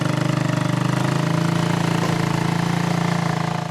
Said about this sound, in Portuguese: Que tal uma moto que dá marcha ré e consegue puxar um carro?